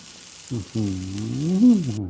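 Spicy eel stir-fry sizzles steadily in a pan with hot chili paste, a constant close frying hiss, while a voice hums or calls out in a drawn-out, wavering tone over it.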